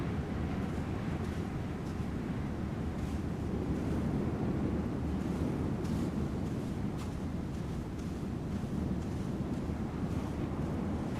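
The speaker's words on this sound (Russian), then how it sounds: "Ветер усилился." Strong wind buffets the microphone by a lakeshore, a continuous low roaring rumble with a steady wash of waves beneath, loud and unbroken throughout.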